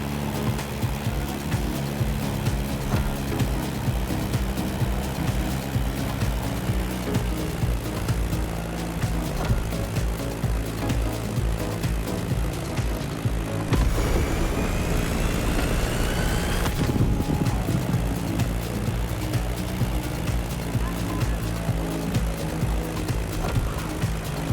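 Steady droning radial engine of a Beechcraft Staggerwing biplane in flight in a game, a continuous loud hum with low harmonic tones, briefly swelling in pitch midway as the aircraft maneuvers.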